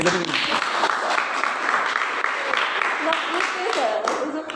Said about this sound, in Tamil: இல்லை கைதட்டுங்க